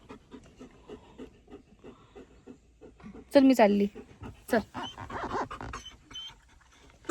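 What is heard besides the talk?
pet dog panting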